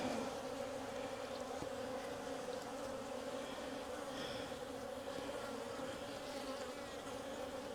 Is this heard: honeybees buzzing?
yes